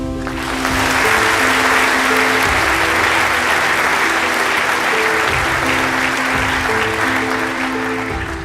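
Sustained audience applause welcoming a panel of speakers onto a stage, loud and steady throughout with dense clapping, a faint low music bed underneath and no talking.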